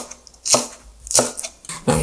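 Three crisp knife strokes slice thinly through a halved green chili pepper on a cutting board, each chop landing sharply at a steady, unhurried pace with short quiet gaps between.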